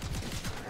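Rapid gunfire bursts from the video game Seraph, a dense stream of repeated low thumping shots with a steady roar behind them throughout.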